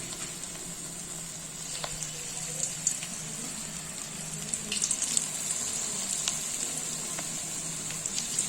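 Pakoras frying in hot oil in a kadhai give a steady, even sizzle and crackle that runs throughout without pause.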